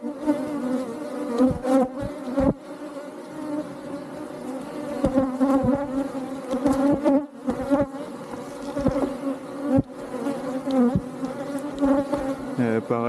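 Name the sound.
honeybees buzzing at an opened beehive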